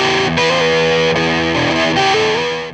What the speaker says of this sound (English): You can listen to that distortion rise.